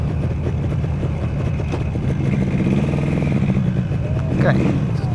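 A Yamaha RD400 motorcycle engine runs steadily and close by, with a low rumbling drone that rises slightly as it revs near the end.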